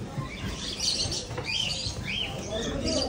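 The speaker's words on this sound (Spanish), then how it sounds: "pues hay más pájaros que nada." Many birds chirp and tweet at a busy bird market in Qatar, with scattered high calls over steady crowd murmur and market bustle.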